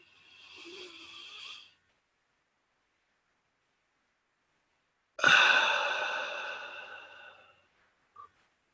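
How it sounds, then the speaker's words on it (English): A group of people breathing slowly in and out during a guided relaxation session: a soft, airy inhale, a long silent hold, then a louder, longer exhale that fades away, with a tiny sound at the end. "Breathe in 5, hold your breath for 5, and then breathe out for 5."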